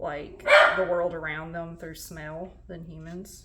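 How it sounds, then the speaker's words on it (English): A dog growls and barks briefly in the background of a home lecture on sheep brain anatomy, a short rough burst near the start that sits under a steady voice that keeps talking throughout. "excuse my dog growling"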